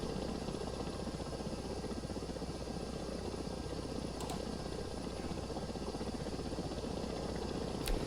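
Helicopter in a flight simulator game, a steady close rotor and engine drone holding constant loudness throughout with no talking.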